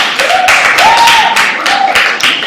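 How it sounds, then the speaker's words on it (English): Classroom students clapping for a small drone after its flight, a brief burst of scattered hand claps with faint voices rising over it. "Please clap for it."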